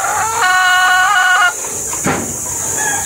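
Chickens in a small backyard poultry house at feeding time, with one loud, drawn-out squawking call up close, followed by scattered clucks and shuffling.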